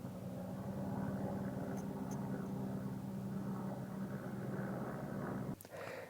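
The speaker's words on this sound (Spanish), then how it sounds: "y hay otro helicóptero." A steady, droning helicopter rotor-engine roar passes overhead, loud and continuous, then cuts off abruptly near the end.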